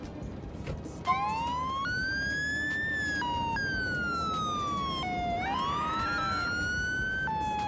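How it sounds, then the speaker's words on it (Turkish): A continuous broken police siren in Grand Theft Auto whose pitch jumps and glides irregularly, stuttering up and down between tones, loud and close over low background rumble. "Bozuk siren sesi nasıl olur biliyor musunuz?"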